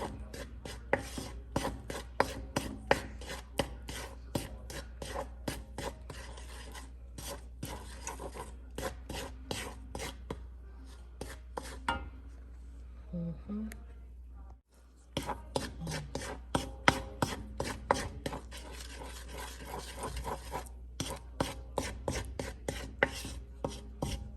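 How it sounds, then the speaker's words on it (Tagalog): Biko, a sticky rice cake, being stirred continuously in a pan, giving rhythmic scraping and rubbing strokes of a spatula, close and repetitive, with a brief pause midway. "Haluin lang ng haluin para hindi masunog."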